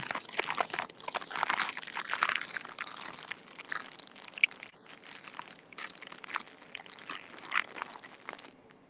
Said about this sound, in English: I hear you munching.